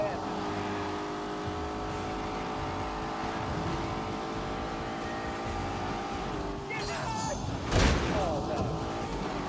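A Porsche 911 Carrera racing in The Grand Tour Game, its engine droning steadily with shifting revs, rising to a loud burst near the end, with someone talking over it.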